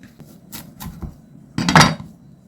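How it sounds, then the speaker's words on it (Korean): A knife chops through vegetables on a cutting board, thinly slicing onion for an acorn-jelly vegetable salad. A few light, scattered taps come first, then a denser, louder burst of cuts, with no talking. "양파는 아주 가늘게 썰어야 돼"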